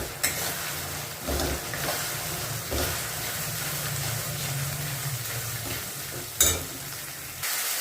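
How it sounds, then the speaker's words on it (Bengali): Spices and aromatics, including turmeric and green chillies, being stirred and fried in a pan for a Bengali home-cooked dish: a continuous close sizzle with scraping stirs, a few louder clatters of the spoon against the pan. "এবার সবটা ভালো করে কষে নেব।"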